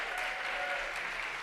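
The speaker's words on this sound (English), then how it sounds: "Got some clapping there" Audience applause during a talk on educating for liberty, a dense, even wash of clapping from a roomful of listeners, brief and steady without any voices.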